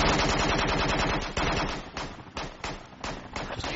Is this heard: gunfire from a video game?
yes